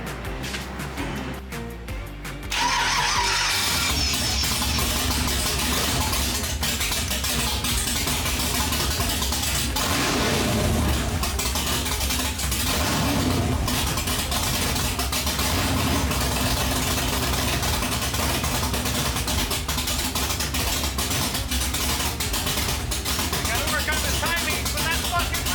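A Nissan 350Z fitted with a swapped LS V8 cranks and fires after a couple of seconds, then settles into a loud, steady rumbling idle close by that carries on unbroken to the end.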